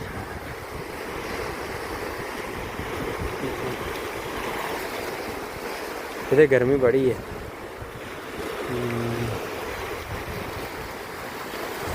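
Sea waves break on the shore beside a forest, a continuous close wash of surf with a steady background roar, while someone briefly talks partway through.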